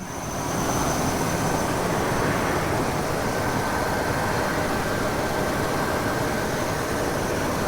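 A 2001 Chevy Suburban 2500 LT with the 8.1L V8 runs quietly and steadily, a smooth, even broadband hum with a faint high whine, holding constant throughout with no speech.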